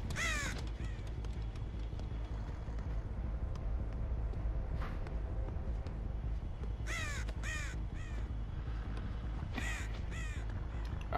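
Repeated crow caws in the game Dead by Daylight, several bursts of harsh calls spread across a constant low rumbling game ambience, loud and near.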